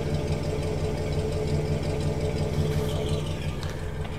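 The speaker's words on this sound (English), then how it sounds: "And I have put factory style dual exhausts on this car." A 1966-67 Mercury 410 cubic-inch FE V8 with factory-style dual exhausts idles smoothly. It gives a close, continuous, even low burble with no talking.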